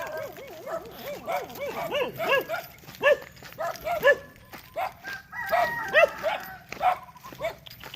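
Dogs bark and whine repeatedly at close range, with a rooster crowing in the mix and faint voices in the background.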